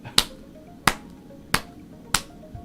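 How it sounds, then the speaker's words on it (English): Four slow, evenly spaced single claps, sharp and close, with short silences between them, given as a mock slow clap during a tabletop role-playing game session. "Slow clap."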